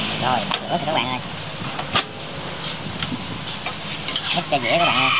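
Duck offal stir-fried with ginger in a pan: steady sizzling and frying with scraping and clattering of stirring, while a person talks intermittently over the cooking.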